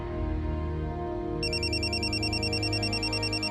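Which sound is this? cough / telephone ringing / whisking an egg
telephone ringing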